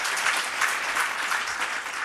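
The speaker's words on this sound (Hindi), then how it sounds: "ताली बजाकर" Steady audience applause welcomes a guest at a Bihar education conclave, a brief continuous wash of many hands clapping together.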